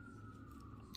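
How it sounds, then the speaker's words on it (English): Emergency vehicle siren from a nearby hospital, a steady wailing tone holding over a low rumble of background noise, faint and distant throughout. "And I apologize for the sirens too"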